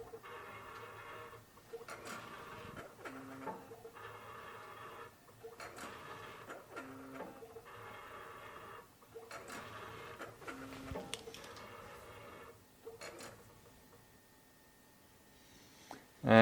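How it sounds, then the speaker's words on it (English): A Plek Station fret-dressing machine moves its sensor to fret 2 and scans a guitar fret at the string positions, giving repeated mechanical whirring passes broken by short tonal beeps, steady and moderately quiet with no voices. "Now the machine will move to number 2 and the sensor will scan just fret 2"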